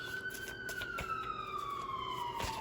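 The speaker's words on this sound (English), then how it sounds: "Sorry for the siren." A siren near the beach wails steadily in the distance, its pitch slowly falling, with faint clicks and background noise around it.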